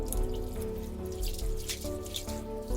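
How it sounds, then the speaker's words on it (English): Water runs and splashes in a sink while green leafy vegetables are washed in cold water with vinegar. Steady near trickling and dripping continues throughout, with no talk. "Soak these green leafy vegetables in vinegar cold water and wash them."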